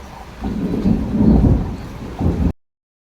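Thunder rumbles through a hailstorm with rain falling, a long, loud, low roll that swells and then fades, followed by a shorter second burst.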